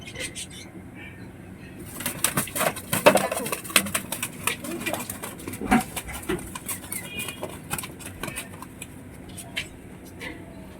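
Inside a pigeon house, pigeons coo and stir amid bursts of rustling and flapping, which grow busier after the first couple of seconds and continue close by.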